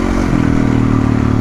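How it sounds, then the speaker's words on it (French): A Yamaha YZF 450 supermoto motorcycle, track-prepared, buzzes loudly and steadily at close range, a brief burst of riding with a slight rising rev. "La petite Yamaha YZF 450, super motard."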